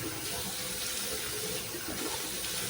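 Steady splashing of running water from a tap as a face is rinsed at a sink during a skincare routine, continuous and close, with no talking.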